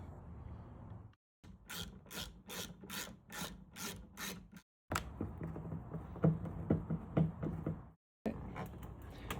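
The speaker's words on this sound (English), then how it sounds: "Next, you're gonna remove this bolt and pull the interior panel off." Rapid rhythmic ratcheting from a tool removing a bolt on a Jeep Wrangler JK front half door, followed by scraping and rubbing as the interior panel is pulled off, with brief silent gaps.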